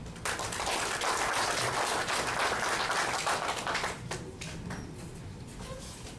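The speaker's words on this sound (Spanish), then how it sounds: "Recibamos con un fuerte aplauso" Steady applause from a lecture audience welcoming a speaker fills the space, dense and continuous, tapering off slightly toward the end.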